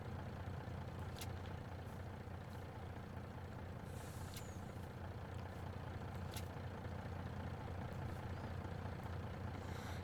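A truck idling in the Farming Simulator 22 video game: a low, steady engine rumble, fairly quiet, with a few sharp hissing bursts like an air brake over it.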